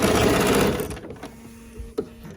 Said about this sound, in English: So let's sew that piece on.